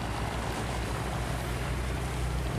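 Boat engine drone with water wash as a Binh Dinh ghe mành fishing boat is towed out to sea by a motorboat off Lagi, a steady close rumble with broadband spray and wind, no talk.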